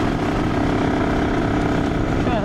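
A Honda NSR 150 two-stroke motorcycle runs steadily near the listener, a dense buzzing engine drone with a noisy, rattling carburetor, continuous and loud throughout.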